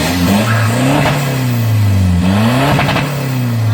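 A Mitsubishi G-Wagon 4WD with a swapped-in Isuzu D-Max 3.0 diesel engine and automatic gearbox, revved up and down twice close by, its loud engine note rising and falling over a steady idle.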